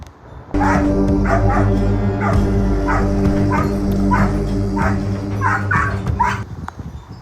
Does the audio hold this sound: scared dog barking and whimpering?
yes